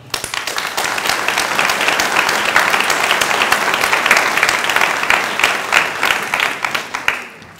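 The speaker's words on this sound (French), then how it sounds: "Vous pouvez les applaudir." Loud, dense applause from a crowd at a New Year's greetings ceremony for a town's residents, sustained and even for several seconds before tapering off into scattered claps.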